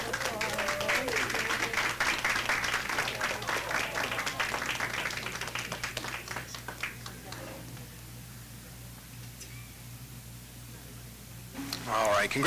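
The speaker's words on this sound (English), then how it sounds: "Another big round of applause." Applause fills a school board of education meeting: a crowd claps steadily for several seconds, then fades to quiet room tone with a burst of clapping returning at the end, with a voice speaking over the start.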